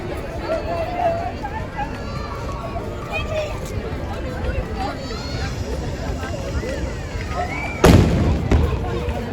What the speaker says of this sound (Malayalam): 5 തവണയാണ് കേട്ടോ ഈ പീരങ്കി വെച്ചിട്ട് പെരുന്നാൾ അനൗൺസ് ചെയ്യുന്നത്.